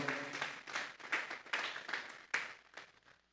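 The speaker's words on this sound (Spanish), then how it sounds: "Vamos a darle una ofrenda de palmas a Dios en esta hora." A church congregation claps together in several uneven bursts that swell and fade over a few seconds, the applause moderately distant and rising again near the end before dying away.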